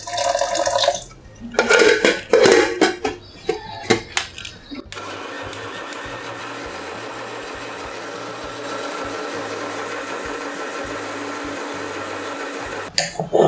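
A mixer grinder blends soaked lentils with yam and a little water into smooth dosa batter, a steady loud whirring drone running for several seconds after some clattering handling at the start, then stopping.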